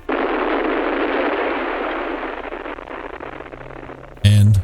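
A hydrogen bomb explosion roars as a long, loud rumbling blast that slowly fades, then cuts to a sudden short burst of different noise at the end.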